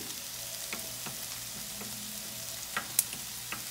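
Chicken breast frying in a pan over high heat sizzles quietly and steadily, with a few sharp pops and spatters standing out near the end.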